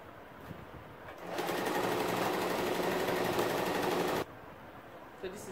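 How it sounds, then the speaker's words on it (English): A sewing machine whirs in a steady rapid stitching run through fabric for about three seconds, starting and stopping abruptly, with quiet room noise before and after. "So I'll go to the sewing machine now and sew it."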